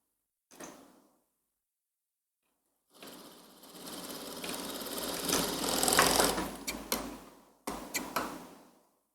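Sewing machine stitching the sleeves of a kurti, with a short burst of stitching followed after a pause by a longer, steady whirring run that rises in intensity, then a few brief final bursts; no talking.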